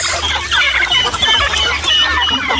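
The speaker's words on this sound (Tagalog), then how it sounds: "Ayan yung mga manok natin. Oh, tuwang-tuwa sila nakalabas." Many chickens just let out of their coop onto free range, clucking busily in a dense, close, continuous chorus with no voices.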